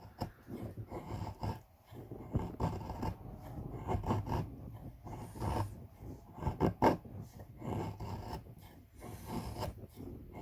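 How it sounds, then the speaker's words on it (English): Fatwood is scraped into shavings with an Eafengrow EF223 fire starter, a series of close, gritty rasping strokes in irregular bursts with short pauses between them. "We have some little fat wood shavings in there."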